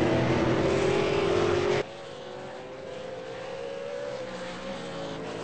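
A V8 race car laps the Zandvoort track in a racing video game, its engine howling loud and high before dropping sharply to a lower, steady drone as the pitch slowly climbs again.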